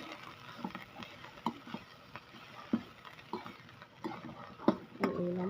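Sautéed pechay vegetables stirred in a pan, with irregular scraping and clinking of a utensil against the pan over a soft background sizzle, close and moderately loud.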